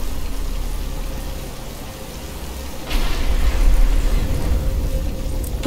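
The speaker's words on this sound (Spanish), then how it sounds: "Pero está empezando a llover" Rain in the Batman Arkham Asylum video game, a steady hiss of falling rain that swells louder partway through, with no talk over it.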